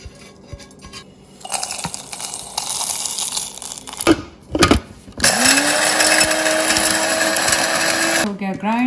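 Electric grinder whirring through spices for a chicken marinade, starting in short pulses with rattling, then running in a sustained loud whine that winds down near the end.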